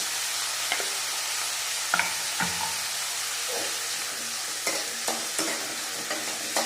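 Green chillies frying in oil for palak dal khichdi, a constant loud sizzle with occasional scraping stirs of a spatula against the pan, close and without voices.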